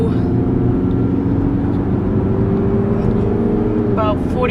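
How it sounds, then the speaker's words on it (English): A Toyota RAV4 accelerates on the road, its engine drone steady and loud inside the cabin with a rising tone near the end as the transmission shifts gears. "So now we're gonna see when the car switches gears."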